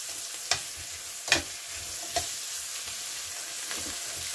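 Golden browned onion cooks with flour in a pot for beef bourguignon, a soft steady sizzle broken by a few sharp spoon scrapes and clinks against the pot.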